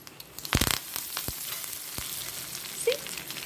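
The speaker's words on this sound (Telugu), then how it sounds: "ఒక్క ఎండుమిరపకాయ అండి చక్కగా తాళింపు ఎంత బాగా వేగుతుందో" Mustard seeds, cumin, fenugreek and curry leaves fry in tempering oil, a steady sizzle broken by several sharp crackling bursts as the leaves and seeds hit the hot oil.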